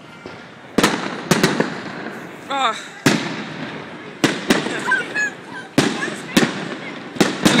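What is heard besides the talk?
fireworks at Liseberg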